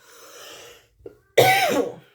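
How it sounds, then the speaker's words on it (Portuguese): A child undergoing chemotherapy coughs: a faint throaty sound first, then a short rasp, followed by one loud, harsh, drawn-out cough burst close to the listener. "deu uma crise de tosse"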